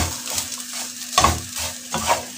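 Spoon stirring ingredients in a cooking pot, with scraping, clattering strokes that come in rhythmic bursts alongside a faint sizzle, close and fairly loud.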